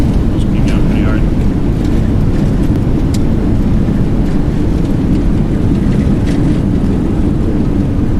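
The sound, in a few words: Boeing 737NG thrust reversers during landing, X-Plane 11 video game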